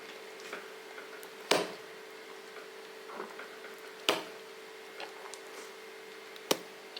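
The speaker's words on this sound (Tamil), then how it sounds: "அள்ளி போடும்போது கூட பாருங்கள் சவுண்டு இப்படி கேட்குது பாருங்கள்" Soft, wet scooping sounds of soft idli batter with a few sharper splats spaced a couple of seconds apart, close and quiet over a faint steady hum.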